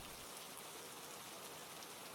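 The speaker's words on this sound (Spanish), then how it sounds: "La noche era muy fría y comenzó a llover." Steady rain patters continuously on a surface as a background sound effect in a Spanish audio story, an even hiss with no voices over it.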